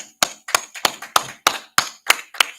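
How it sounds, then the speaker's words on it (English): About nine sharp, evenly spaced claps ring out in a slow unison rhythm from a group at a brotherhood class, close and crisp with no talking. "All right, let's clap it up, man."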